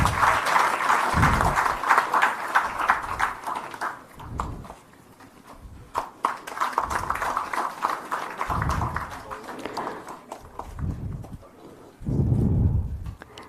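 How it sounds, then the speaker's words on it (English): Audience applause at a Goa government MoU signing ceremony with a skilling startup, heard as bursts of clapping that swell and fade across the stretch, with a voice speaking at moments in between. "let us welcome once again this MoU signing with a round of applause"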